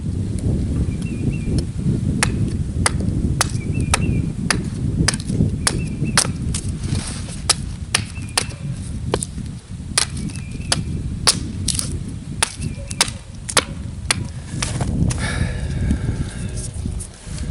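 Wood being chopped flat with sharp, repeated close-range blade strikes at a quick, fairly regular pace over a steady rough outdoor background, shaping a piece for an improvised bear paw snowshoe.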